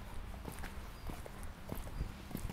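Soft hoofbeats of a horse walking in a riding session, a steady uneven clip-clop heard faintly at a distance under low background noise.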